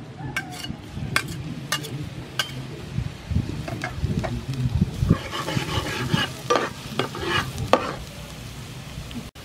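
Chopped garlic fries in hot soybean oil for a clam stir-fry, a steady close sizzle mixed with scraping stirs and scattered sharp spatula clicks against the pan.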